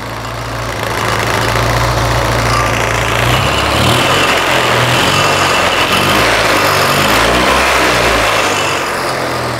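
Fiat 126p 650 engine fitted to a 50cc scooter, running loud and close: a steady low idle drone that rises and revs after a few seconds, then holds a rough, fluctuating throb for the rest.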